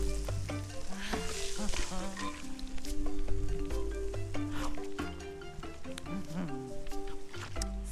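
Food sizzles and fries in Monster Hunter Wilds cooking, a steady crackling hiss under layered game music with occasional sound effects, fairly loud throughout.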